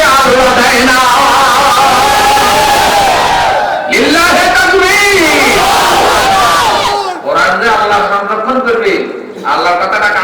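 A large crowd at an outdoor Bangladeshi waz sermon roars the takbir chant "Allahu Akbar" in unison. The loud massed voices surge and repeat in several long waves.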